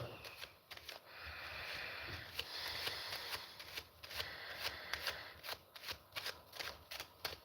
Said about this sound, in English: I'll just like give the cards a quick shuffle